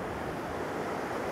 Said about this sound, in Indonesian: Wait, ombaknya cukup besar.